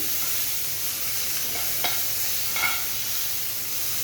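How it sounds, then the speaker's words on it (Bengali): Onion and tomato frying in a pan, a steady hiss of sizzling oil with a couple of soft scraping strokes as the mix is stirred, close and continuous, with no talking. "এবার একটু নেড়ে দিই।"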